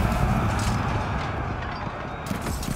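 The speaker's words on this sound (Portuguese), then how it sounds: "Olha isso, cara, os cavalos." Cavalry horses galloping in the battle game Total War: Pharaoh Dynasties, a Cimmerian charge: a dense, continuous rumble of many hoofbeats mixed with battle din, loud and steady, with no voices.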